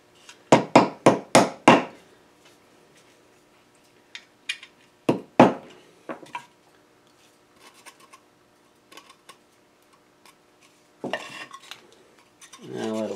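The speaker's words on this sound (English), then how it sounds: "I'm going to support that with a little block or something so it doesn't damage the blades while I'm hammering on it" Hammering on a wooden whirligig turkey part propped on a block of scrap metal: a quick run of five sharp, ringing metallic strikes, then scattered single blows and lighter taps, close and loud.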